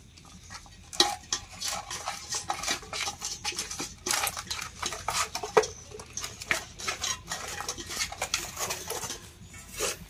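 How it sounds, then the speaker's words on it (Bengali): Katla fish heads being rubbed by hand with salt and turmeric in a bowl, giving close, irregular squelching, patting and scraping against the bowl throughout, with no talking. "গামলির মধ্যে সমস্ত মাথাগুলো দিয়ে লবণ হলুদ মেখে নেব"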